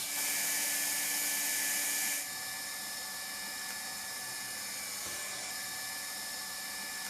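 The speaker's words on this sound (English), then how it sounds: "Heat up the hand-operated hot welding gun, place it on the joint and seal it using the hot welding rod" A hand-operated hot welding gun blows hot air to seal a welding rod into a noraplan floor covering joint, a steady close hiss that drops in level after about two seconds and continues evenly.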